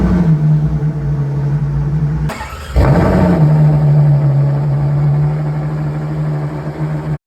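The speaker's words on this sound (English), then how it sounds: "I'll show you a startup of that car right now." A rear-engined Ferrari V12 holds a steady idle, then the starter catches with a sharp burst and a rising rev, and the engine settles back into a loud, even idle close by.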